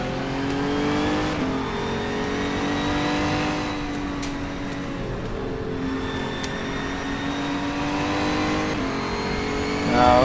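A race car engine in the rFactor 2 sim racing game, revving and holding a tonal drone that rises and falls, with a louder surge at the end.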